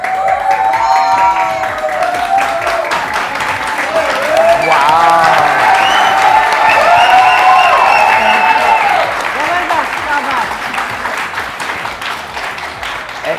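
Studio audience applause on a Pakistani TV morning show, loud steady clapping with some cheering, while voices talk over it throughout.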